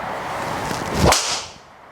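A single sharp, crisp impact of a Callaway Rogue ST driver with a carbon head on a golf ball, a solid muted crack with a brief airy tail, alone in a quiet outdoor space.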